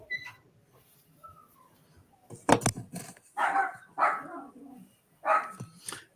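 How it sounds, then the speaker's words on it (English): A dog barks several times in short bursts, fairly close, with quiet gaps and faint whimpers between the barks. "That's my dog barking in the background."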